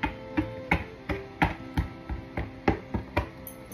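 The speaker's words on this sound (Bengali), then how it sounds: "এই যে এভাবে কাটা চামচ দিয়ে ছিদ্র করে দিতে হবে।" A fork pricks holes in plain pizza dough with a quick, regular series of about a dozen light taps, close and clear with nothing else behind them.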